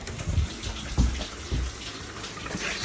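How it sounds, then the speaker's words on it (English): Shower water running inside an RV during de-winterizing, a steady wash of spray with faint gurgles and a few soft thumps, moderately quiet and heard without any talking. "I still hear the shower in here running"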